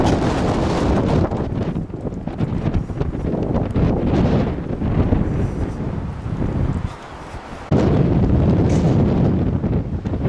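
Strong wind buffets the microphone in a steady, loud rumble with gusty surges, briefly dropping near the end before roaring back.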